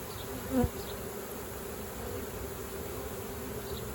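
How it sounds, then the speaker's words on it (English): A soft, steady hum of many honeybees buzzing together, continuous throughout, with one slightly louder buzz passing close early on. "Every time we dump bees on here, we kind of mess up their traffic."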